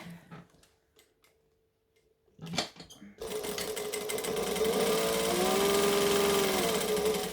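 A sewing machine stitches fabric on a pattern project, running steadily and loudly from about three seconds onward after a few quieter starts and ticks, with a long continuous whirring drone close to the mic.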